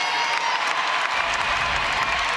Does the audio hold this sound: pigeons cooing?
no